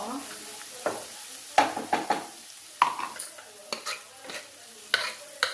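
Stirring and frying in a pan while making pepper dal (miriyala muddapappu): scraping strokes and soft clinks of a spoon against the pan come in irregular bursts over a low, steady sizzle, close and moderately quiet.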